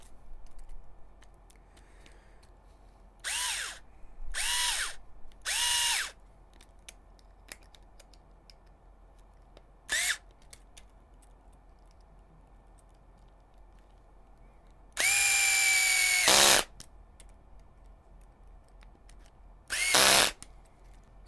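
Power drill driving a 10 mm screw into an HPI Venture SBK RC car kit, heard as several short, loud whirring bursts of a second or so each, separated by quiet gaps, with one longer two-second run near the end.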